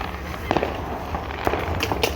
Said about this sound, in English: Oh, there's some more fireworks there.